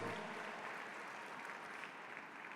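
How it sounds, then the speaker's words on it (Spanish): A church congregation claps together, a steady, dense wash of applause that stays fairly even and moderately loud from start to finish, with no voices rising above it. "Denle un fuerte aplauso al Señor."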